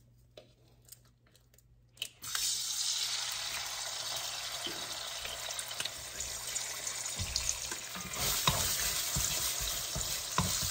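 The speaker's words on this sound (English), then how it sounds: "So when the oil is hot, I'm gonna break the eggs." Eggs crack into hot oil in a wok and break into a loud, steady sizzle that starts abruptly after a few quiet knocks and continues close by to the end, with some stirring clatter.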